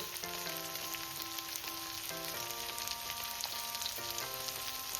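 Brinjal with onion, turmeric and salt fries in a pan with a soft, even sizzle that continues throughout, set under steady background music.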